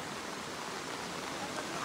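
Floodwater rushes through a village stream in the Konkan countryside, a steady, unbroken roar of broadband water noise with no voices over it.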